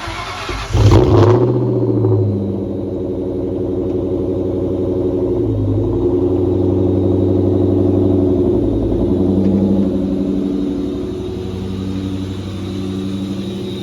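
A warm Ford Mustang engine fires up with a sharp burst, then settles into a loud, steady idle that swells slightly in the middle, running for several seconds with no voices.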